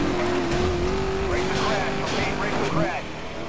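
A Ford Mustang races in Need for Speed Most Wanted, its engine holding a steady, loud drone with rising pitch and scraping tire noise throughout.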